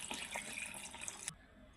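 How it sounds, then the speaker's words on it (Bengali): Water pours steadily into a pot of cooking desi chicken curry with elephant foot yam to make the broth, a close, soft rushing stream that stops abruptly near the end. "এখন আমি এখানে ঝোলের পানি দিয়ে দেব।"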